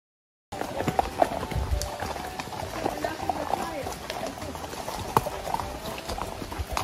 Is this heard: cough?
no